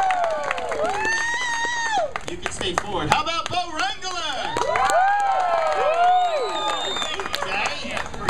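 Studio audience at a comedy contest show cheering, shouting and clapping in bursts while a host talks over the noise.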